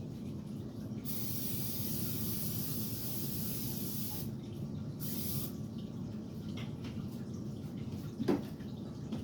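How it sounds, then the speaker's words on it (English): An aerosol can of non-stick vegetable oil sprays onto a baking tray in two bursts, a broad hiss up close, separated by a short pause, over faint background noise. "by spraying some non-stick vegetable oil on it"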